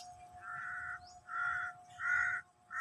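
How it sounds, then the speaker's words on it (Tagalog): A crow caws three times in a slow, evenly spaced series, each call loud and drawn out, over a steady low hum with no talking. "May uwak."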